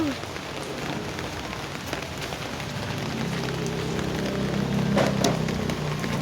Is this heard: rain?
yes